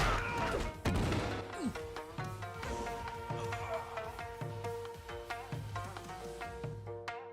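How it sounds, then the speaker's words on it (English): A fighter crashes through a glass wall in a staged martial-arts fight scene, a single heavy smash early on, followed by loud dramatic music with pulsing low beats. "his devastating strikes send Jet Li crashing through a glass wall"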